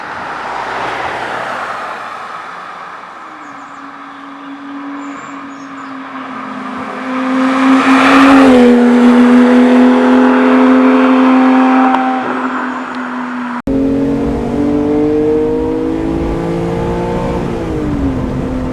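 A Porsche 911 GT3 accelerates hard from the cabin, its engine note rising and holding through long loud pulls, with a brief shift break and continued revving under steady road and tyre noise.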